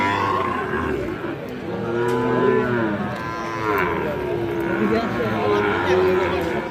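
A white Sahiwal bull calf at a cattle market lets out long low moos amid a busy crowd, with people talking nearby throughout.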